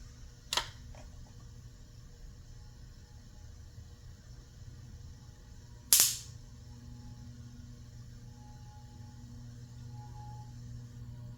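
A ceiling fan on a solid-state speed control runs with a quiet, steady low hum; two sharp clicks break the near-silence, one early and one midway.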